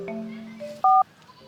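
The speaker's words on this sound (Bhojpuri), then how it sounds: "फोन आ रहा है।" A mobile phone sounds with an incoming call from an unknown number, a short electronic tone sequence ending in one loud, steady beep, heard close and alone.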